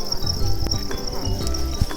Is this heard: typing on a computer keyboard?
no